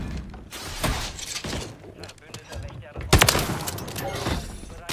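Rapid shotgun blasts and other gunfire in Call of Duty: Modern Warfare III, sharp loud cracks in irregular bursts with a heavy blast near the middle, mixed with game effects and bits of talk.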